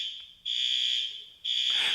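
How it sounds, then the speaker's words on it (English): A school fire alarm under test blares in loud, piercing electronic bursts, cutting out briefly between blasts and then sounding again. "So they are testing the fire alarms and they're like super loud."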